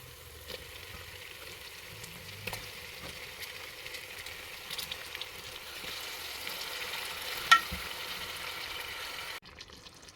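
Mutton pieces sizzling and frying in oil with cooked-down spices for a mutton kosha curry, a steady close crackle with occasional stirring clicks, ending abruptly near the close.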